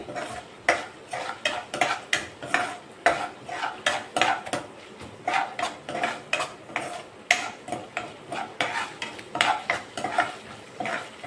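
A spoon stirs whole spices such as cardamom, cinnamon, cloves and shahjeera in a pan, making repeated scraping, clinking strokes in a steady rhythm over a faint background sizzle, with no talking.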